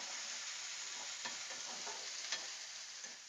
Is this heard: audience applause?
no